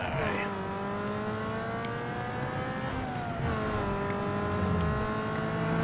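A Subaru WRX STi engine in Need for Speed Underground 2 drones steadily, its harmonic tone climbing as revs rise, with a brief dip near the middle like a gear change before it pulls again, loud and continuous.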